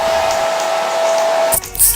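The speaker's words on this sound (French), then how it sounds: "je sèche la laque pour qu'elle devienne de la colle avec un sèche-cheveux" A hair dryer blows steadily on hairspray spread over a synthetic wig, a close, loud whirring hum with a constant tone that cuts off near the end, followed by brief rustling handling noise.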